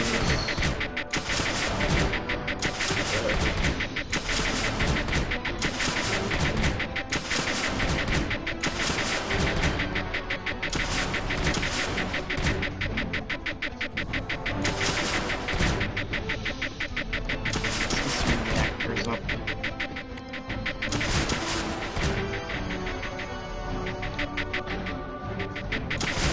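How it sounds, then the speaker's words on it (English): Launchers in the strategy game Creeper World 2 fire steadily at constant intervals, giving a dense, loud run of repeated bursts that continues without a break for over twenty seconds. "Now my launchers are back firing at constant intervals."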